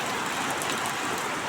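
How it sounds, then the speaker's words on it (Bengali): Heavy rain during a storm, a dense, steady roar of rainfall hissing on surfaces, loud and close with no break across the short stretch. "অনেক বৃষ্টি হইতেছে, ঝড় হইতেছে।"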